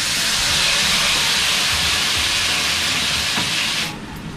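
Blended spice paste for a red tilapia chili dish hits a hot pan, giving a loud, steady broadband sizzle that holds for about four seconds before easing slightly at the end.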